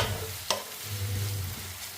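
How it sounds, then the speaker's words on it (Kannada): Onion and green chillies fry in a pan with a steady, close sizzle, and a single sharp clink of a utensil comes partway through. "ಅದೆರಡನ್ನೂ ಹಾಕ್ಬಿಟ್ಟು ಚೆನ್ನಾಗಿ ಫ್ರೈ ಮಾಡ್ಕೋಬೇಕು."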